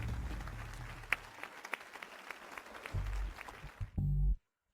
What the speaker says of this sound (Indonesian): Mari kita berikan tepuk tangan yang paling meriah.